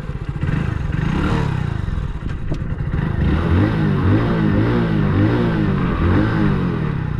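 A one-year-used Hero Passion Plus motorcycle is ridden. Its close engine note wavers as it revs and eases, with some clattering and rattling over a continuous loud drone.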